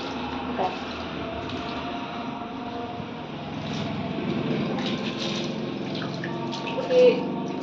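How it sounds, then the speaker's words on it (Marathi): Water being poured into hanging window plant pots, a steady low trickle running for several seconds with faint background noise and a slight swell near the end. "यातल्या सर्व पाणी आटून गेलं होतं ना, त्याच्यामुळं मी या कुंड्यामध्ये पाणी टाकायले."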